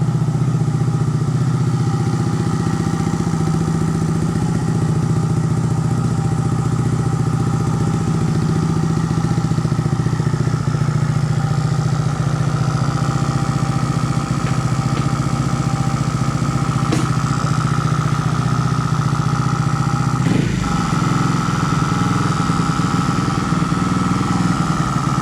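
A Honda Monkey motorcycle engine idles steadily at close range for a long stretch, a constant even drone with a brief clatter about two-thirds of the way through.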